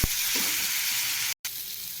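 Spices with chilli powder stir-fry in a pan for a fish curry, making a loud, steady sizzle that cuts out for a split second and then resumes.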